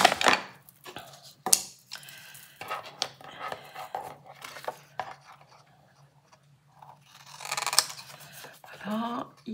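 Scissors cutting paper for a scrapbooking tag: close snips and rustles with paper handling between cuts, under occasional quiet talk.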